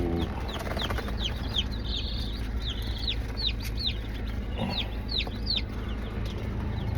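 Newly hatched chicks peep in a brooder, a scatter of high, short repeated chirps over a steady low background hum, with a faint clunk partway through.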